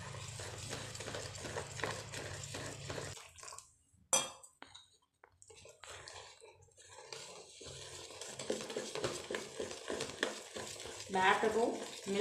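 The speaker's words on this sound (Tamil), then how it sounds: "பேட்டரும் மில்க்கும் நல்லா மிக்ஸ் ஆகணும்." Rava cake batter being stirred with boiled, cooled milk in a bowl: repeated scraping and swishing strokes with occasional light clinks, continuing after a short quiet pause.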